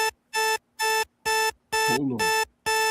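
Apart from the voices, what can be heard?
timer buzzer going off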